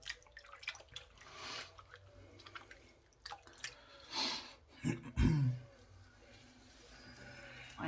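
Water is splashed and rinsed over a face to wash off shaving lather: scattered drips and soft sloshes, with a louder splash and gurgle partway through, all fairly quiet.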